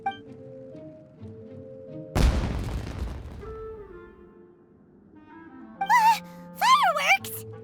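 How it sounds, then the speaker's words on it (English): A sharp burst of fireworks going off in Genshin Impact, one loud boom with crackling tail around mid-clip, set among game music and character vocal sounds. "It sounded like fireworks."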